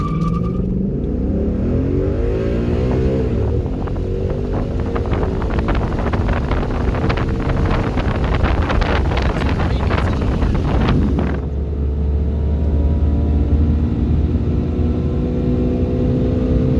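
A red 2015 Ford Mustang launches at a drag strip: the naturally aspirated engine revs hard through rising harmonic sweeps and gear changes, loud with wind buffeting, then settles into a lower steady drone.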